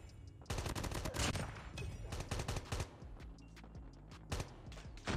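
AK117 automatic rifle fire in Call of Duty Mobile, sustained rapid bursts of shots with short pauses, fairly quiet overall and mixed with game effects.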